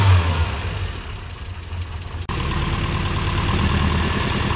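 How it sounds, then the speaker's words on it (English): A Lancia Fulvia 1.3S engine runs steadily at close range, a continuous mid-pitched hum that dips briefly midway and then picks back up a little stronger. "So we've got the motor going, and it sounds okay."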